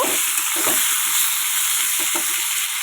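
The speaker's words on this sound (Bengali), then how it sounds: "এই আমি আলুগুলো দিয়ে দিয়েছি তেলের উপরে মাছগুলো আমার অলরেডি ভাজা হয়ে গেছে আলুগুলো সুন্দর করে ভেজে নেবো" Potato pieces frying in hot oil in a pan where fish was fried first for a spicy fish curry, giving a steady close crackling sizzle with a few brief stirring clinks, no voices.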